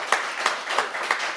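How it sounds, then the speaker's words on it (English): Studio audience clapping for a guest on a talk show, a few spaced hand claps with rhythmic bursts over a brief moment, moderately close and without talk. "give Allen a nice round of applause"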